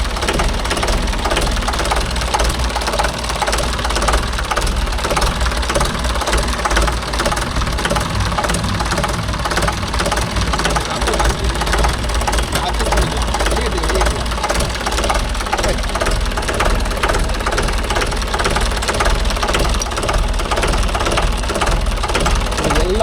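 A Mahindra 575 DI tractor diesel engine idling at low rpm close by, a steady rapid knocking chug with constant vibration, under intermittent talk.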